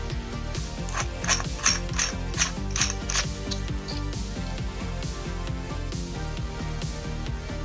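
A diffuser is screwed onto a ShredLights SL-1000 light, giving a quick run of crisp plastic ratcheting clicks heard up close, with no voices.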